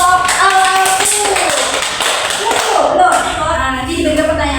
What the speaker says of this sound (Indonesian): Zuzia, tepuk tangan dulu kelompok Al-Afu.